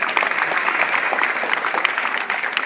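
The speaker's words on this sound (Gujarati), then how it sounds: "તાળીઓ પાડો બાળકો આપણા માટે" Schoolchildren clap together in a quick, steady patter of applause, close and fairly loud, with a bit of crowd murmur under it.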